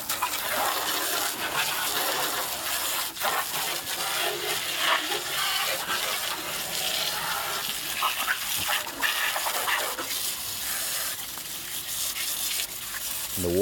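Water gushes and splashes steadily while a diesel engine is flushed during cleaning, a continuous rushing, gurgling flow, close and loud, with no talking.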